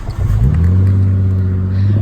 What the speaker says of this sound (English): Let's run the engine.